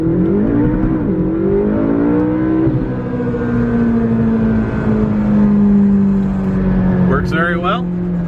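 A 2015 McLaren 650S Spyder, a salvage car, launches hard under launch control. Its engine gives a loud, sustained roar with shifting tones, heard from up close, and a brief rattle comes near the end.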